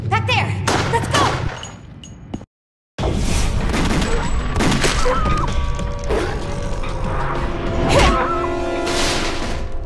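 Several sharp, loud gunshots and crashes ring out in the zombie shooter game Resident Evil: The Darkside Chronicles, scattered through dense game effects and a brief silent gap.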